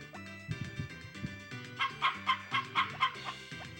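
Chickens clucking in the video game Harvest Moon, a run of short, clipped synthetic clucks in a quick rhythm that grow louder and more insistent toward the end, layered over looping game music.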